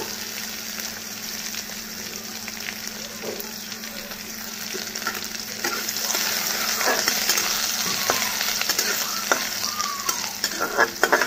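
Ginger and dried red chillies crackle in hot oil, the sizzle spattering steadily and growing louder partway through, with occasional stirring clicks and no voices.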